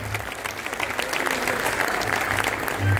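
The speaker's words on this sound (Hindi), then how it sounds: "तो इनके लिए जरा जोरदार तालियां" Audience at a Mumbai festival bursts into steady, close applause for a dance performance, dense clapping filling the moment with a few crowd noises mixed in.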